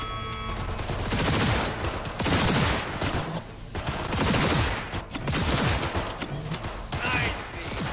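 Gunfire in Cyberpunk 2077 comes as repeated loud bursts of rapid shots, in waves of roughly a second with brief lulls between, close and dominant throughout.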